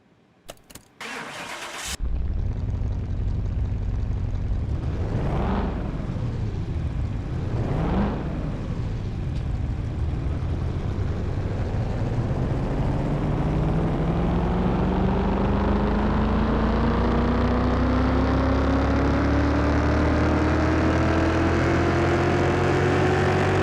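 A car engine run on a dyno in Car Mechanic Simulator 2021 cranks and catches, blips through two quick revs, then makes a long, steadily climbing full-throttle pull that stays loud and close to the end, with no talking.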